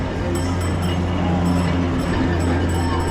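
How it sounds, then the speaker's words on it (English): An old-fashioned tram rolls through Istanbul with a loud, continuous low rumble and hum of the car, faint metallic clinks and squeals from the rails. "How cool is this old-fashioned tram?"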